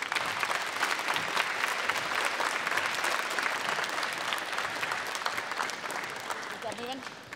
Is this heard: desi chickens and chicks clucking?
no